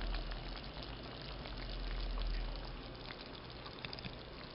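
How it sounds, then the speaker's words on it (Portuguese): Pasta boiling in a pot of water, a faint, steady bubbling rumble with no voices. "E o macarrão tá aqui fervendo."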